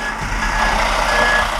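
A 50,000-pound-capacity Powerfinger hook-lift truck hoists a dumpster with a steady hydraulic and engine drone under a repeating high reversing-style beep, continuous and fairly loud with no talking.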